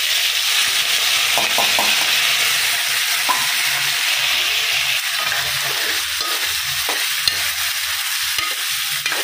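Mustard seeds, fenugreek and other spices sizzle steadily in hot oil in a home kitchen, a continuous close hiss with occasional soft pops and stirring clinks, no voices.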